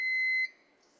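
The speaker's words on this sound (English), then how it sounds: "Beeping." A single electronic beep, a clear high tone held for about half a second that then cuts off, leaving a faint background.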